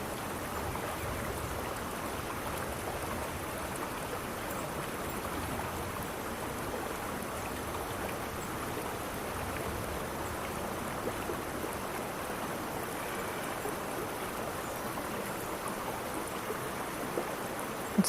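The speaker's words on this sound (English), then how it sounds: "Listen to the current." Steady flowing water rushes continuously with an even, hissing texture, like a river current running close by, with no voices.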